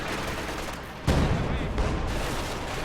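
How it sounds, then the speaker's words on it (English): MG34 machine gun barrage in a strategy video game: a dense, continuous roar of gunfire and distant booms, with a sharper burst about a third of the way in and steady loud fire throughout. "Barrage going out on the MG34."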